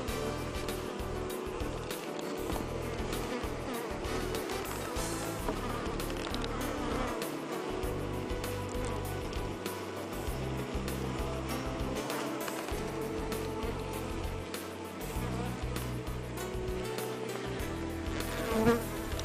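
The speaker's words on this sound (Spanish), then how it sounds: "Sin embargo, pocas abejas forrajeras salen a trabajar." Foraging honeybees at a hive in early morning make a continuous dense buzzing, with individual bees droning past up close over a steady background hum, fairly faint overall.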